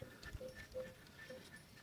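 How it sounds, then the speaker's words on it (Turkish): A flock of sheep in a village sheepfold in Doğancı, Bergama, with soft bleats and animal shuffling spread across a short, faint stretch of farmyard ambience. "burası da bir koyun sayası. Maşallah baya koyun var."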